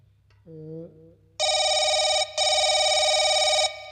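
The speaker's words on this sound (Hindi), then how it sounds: "यस सर, अभी फोन लगाता हूँ।" A short tonal beep, then a loud electronic phone ring tone on an outgoing call in two long bursts with a brief gap, clear and close.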